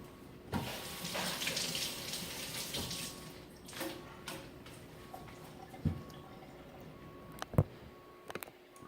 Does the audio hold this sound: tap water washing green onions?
yes